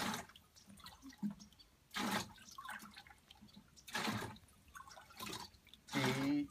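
Collected rainwater being poured in cupfuls into a bokashi compost mix, with several separate splashing pours a couple of seconds apart and quiet talk between them.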